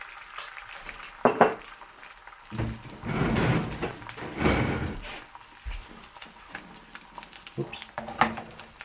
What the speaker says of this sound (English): then we're going to add the egg in there